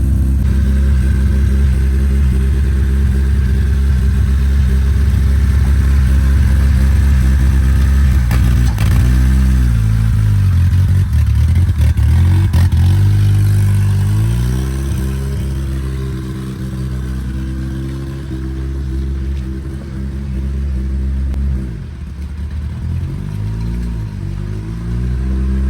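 A junkyard Honda Civic limo with no brakes idles and rumbles steadily up close as it is driven into a garage, its engine revving up and down a few times along the way.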